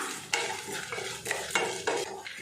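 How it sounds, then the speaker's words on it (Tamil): Coriander seeds, chana dal, dried red chillies and a quarter cup of coconut dry-roasting over medium heat for Thanjavur-style sambar, with a steady soft sizzle and several sharp scraping stirs of a spoon against the pan. "அது கூடவே 1/4 மூடி தேங்காய் சேர்த்துட்டு எல்லாத்தையும் நல்லா வறுத்துடலாம்."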